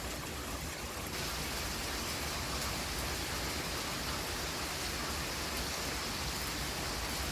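Heavy rain falling in gusty wind, a dense, even hiss of downpour filling the whole stretch with no voices.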